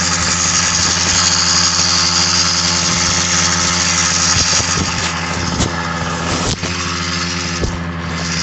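A Yamaha YD100 motorbike engine idles steadily and loud up close at night, a constant rumbling drone with a few brief revs or clunks near the end and no talking.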